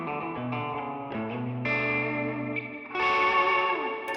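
PRS Silver Sky electric guitar played through effects, with the whammy bar bending sustained chords and notes in pitch; swelling, wavering tones with chorus and distortion, close and fairly loud, no talking.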